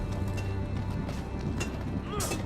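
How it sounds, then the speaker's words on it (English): Horse hooves clip-clopping in the Game of Thrones video game, a quiet rhythmic series of hoof clops under a low rumble, with voices talking over it. "On a horse, no less."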